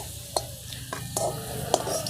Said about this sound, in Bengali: আলুগুলো দেখুন বেশ লাল করে ভাজা হয়ে গেছে এরপর আমরা আলুগুলোকে তুলে নেব